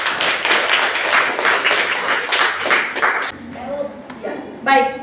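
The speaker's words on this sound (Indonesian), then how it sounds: "Tepuk tangan dulu untuk kita semua." A classroom of students claps hands together in a brisk, rhythmic burst for about three seconds, then it stops and a voice talks over a quieter room.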